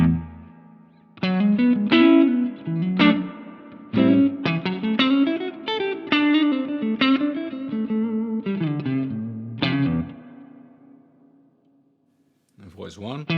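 Electric guitar through a 100-watt tube amp on the voice 2 setting, mid-kick engaged: a run of clean, bright picked notes and chords with ringing sustain, loud and close, ending in a short pause before a brief new strum.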